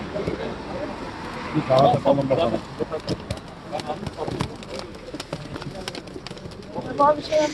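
Pigeons coo at the Halkalı pigeon market, soft repeated calls mixed with people talking and scattered clatter nearby.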